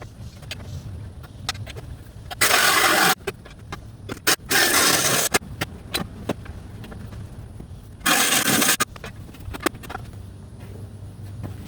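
Power saw cutting into metal while building a 125-pound lifting stone, three loud harsh bursts of cutting with short grinding and scraping sounds between them, no talking.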